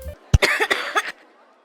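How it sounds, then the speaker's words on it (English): A single sharp, loud cough bursts out from a guest in the game RollerCoaster Tycoon, followed by a few short throaty vocal sounds before fading to quiet. "It's a loud cough."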